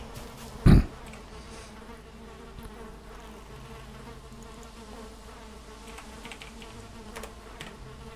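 Bees buzzing in Valheim, a steady faint insect drone running throughout, with a single sharp loud knock near the start and soft clicks scattered later.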